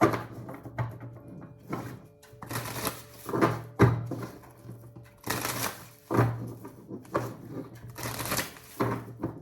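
Tarot cards are shuffled in repeated bursts of riffling and soft slapping, close and quiet, with short pauses between rounds and no talking.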